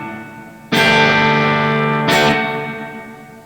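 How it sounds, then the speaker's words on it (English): Electric guitar played through a Boss DD-500 on a spring reverb with Tera echo preset: two loud chords, the second struck about a second and a half after the first, each ringing out in a shimmering, smeared wash that fades slowly. "Spring reverb with Tera echo."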